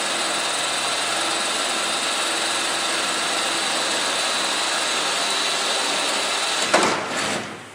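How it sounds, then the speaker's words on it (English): Power drill boring a hole in a metal knee brace while fitting a Team Z strutless wing on a 1979–93 car: a steady, loud whining drone that holds for several seconds, then surges briefly near the end before cutting off. "I just like to take a drill and drill the first hole in the strut brace"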